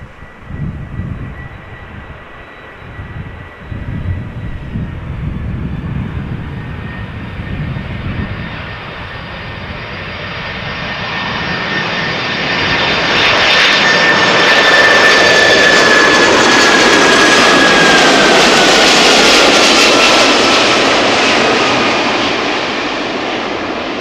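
An airliner arrives at a busy airport, its jet engine whine rising from a low rumble into a loud, close roar with a sharp high tone as it passes, then holding heavy and steady.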